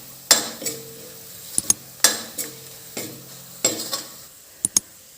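Spices roasting in a pan over a low flame, a spoon scraping and clinking against the metal in several separate strokes over a faint steady sizzle, close and alone with no talk.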